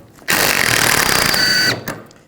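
A powered impact tool with a 16mm socket rattles a nut loose on the rear shock of a 2004-08 Nissan Maxima, giving one loud, continuous buzzing burst of about one and a half seconds, followed by faint handling clicks.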